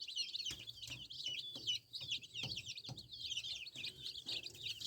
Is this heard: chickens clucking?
yes